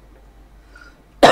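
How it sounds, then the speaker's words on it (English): A single short cough bursts out at the very end after near silence. "I had a cough lingering."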